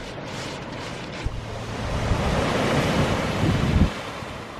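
Surf rolling onto Durgan Beach in Cornwall, at the foot of a garden, a steady wash of waves with wind buffeting the microphone and a slightly louder swell toward the end.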